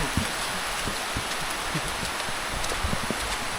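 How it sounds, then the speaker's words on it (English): Rain falling in a village in Bua, Fiji, a steady wash of patter with scattered louder drops striking nearby surfaces, continuous throughout. "We love the rain."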